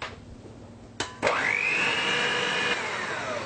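An electric hand mixer with chilled beaters whips cream with icing sugar for a rainbow cake. A couple of sharp clicks come first, then the motor spins up into a loud, steady whine that holds close by, with no speech.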